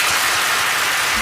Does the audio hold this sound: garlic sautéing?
no